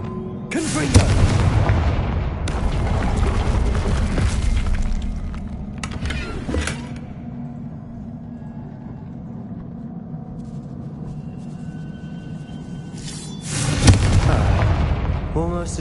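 Confringo blasting spell in Hogwarts Legacy, a loud booming explosion with broadband crackle opening the scene, quieter rumbling ambience through the middle, then a second heavy blast near the end.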